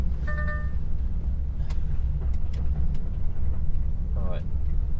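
An HGV truck drives in to a solar site, its deep engine rumble steady and close while people talk over it.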